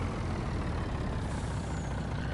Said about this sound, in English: Alright, so let's stop the truck right here.